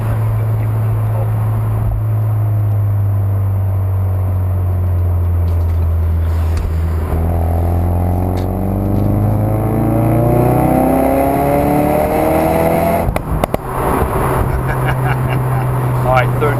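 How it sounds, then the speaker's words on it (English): Ford Focus RS engine rev-matching on a downshift, a steady drone that blips up into rising harmonics around the middle and settles back, with a brief crackle near the end; loud, close, from inside the car. "So if I rev match the downshift now, give it a little pop."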